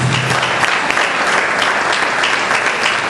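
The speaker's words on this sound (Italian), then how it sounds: "un bellissimo applauso per Cinzia Bonti." A crowd applauds loudly and steadily at a Sardinian singing competition in Sassari, a dense wash of clapping that carries on without a break.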